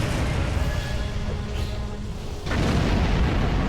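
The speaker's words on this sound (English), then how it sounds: "See, their explosions can hurt you quite a bit." Dense, rumbling spaceship explosions in the game Star Trek Online fill the clip, with a deeper boom swelling in near the end over a constant roar.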